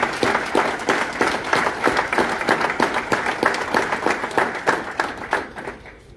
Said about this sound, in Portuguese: Para o Dr. André Castro, uma grande salva de palmas.